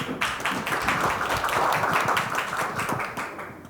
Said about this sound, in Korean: 그 큰 박수로 부탁드립니다